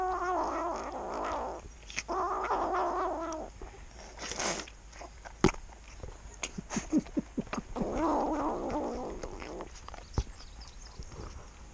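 A small kitten guarding its food gives repeated drawn-out meows close up, followed by scattered clicks, taps and rustling between the cries.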